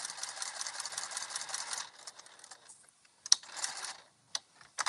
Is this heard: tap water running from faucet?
no